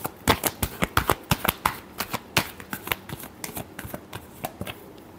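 Tarot cards are shuffled by hand in quick, crisp riffling bursts, a close, dry rhythmic flutter of card edges repeating steadily for several seconds with no talk over it.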